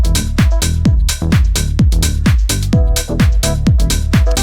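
A punchy deep tech synth preset pattern in Ableton, played without the added fifth-down MIDI layer, fires rapid plucky stabs with falling pitch sweeps over a pounding low-end groove, loud and continuous.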